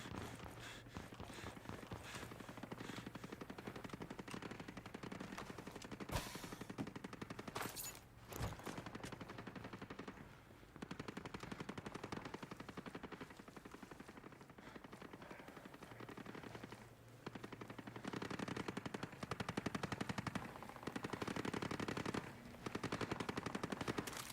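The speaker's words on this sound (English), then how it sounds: "There's gunfire in the distance." Faint, continuous crackle of far-off automatic gunfire from a faction war in Ghost Recon: Breakpoint rolls on for a long stretch, with sharper nearby bangs standing out now and then.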